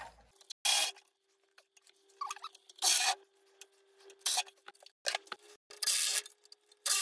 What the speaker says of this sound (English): So first thing we're going to do is we're going to pull off these 4 bolts.